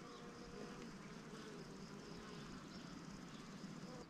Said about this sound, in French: Toujours des abeilles.